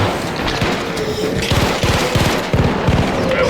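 Arc Raiders gunfire rings out in several short rapid bursts, close and punchy, over a steady game soundscape.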